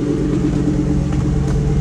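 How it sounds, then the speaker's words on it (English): A 1971 Ford Mustang Mach 1 with a 351 Cleveland four-barrel V8 idling close by, a steady, loud, low rumble with an even pulsing beat and no talk. "The motor runs real strong"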